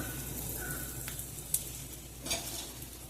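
Onion frying in oil in a pan with peanuts and urad dal, a steady soft sizzle with a couple of brief stirring scrapes, close and alone with no talk.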